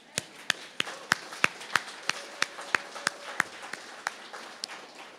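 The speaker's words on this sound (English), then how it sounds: "And I'm sure a continual round of applause would be appreciated." Sharp, evenly spaced claps ring out at an art awards ceremony, a fairly quiet and sparse rhythmic clapping rather than a full ovation.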